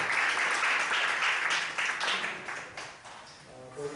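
An audience of students at a school assembly claps, a fairly loud, uneven burst of applause that swells and dips, with some voices mixed in and a few distinct claps near the end.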